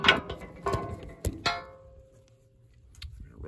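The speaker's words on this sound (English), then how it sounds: "I'm gonna rotate that drum and do the other side" The cutter drum of a Vermeer BC1500 gas woodchipper is turned by hand during a knife change, giving a few sharp metallic clanks and ratcheting clicks with ringing tails, then a quieter pause with faint ticks.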